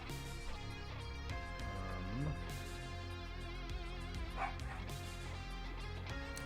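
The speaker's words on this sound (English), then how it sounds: "And my dogs are barking." Dogs bark and yip in short repeated bursts at low level, partly buried under a dense musical backing that runs throughout.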